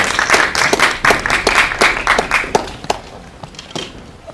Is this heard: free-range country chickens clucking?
no